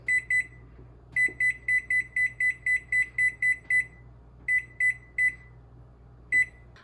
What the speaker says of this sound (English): And we're gonna set our timer on the oven to